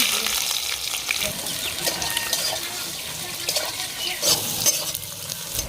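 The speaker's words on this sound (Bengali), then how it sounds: "এবারে দিয়ে দেবো পেঁয়াজ কাটা আর লঙ্কা কাটা" Chopped onion and chili hit hot oil already seasoned with nigella seeds, giving a steady, close, loud sizzle and frying hiss with some stirring scrapes throughout.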